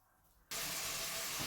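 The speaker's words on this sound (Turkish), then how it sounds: "Ben kızartmaya başlayayım biraz bundan Ece tamam mı?" After a brief quiet moment, a sudden loud, steady sizzling hiss starts as lentil patties hit hot oil in a pan, continuing without pause.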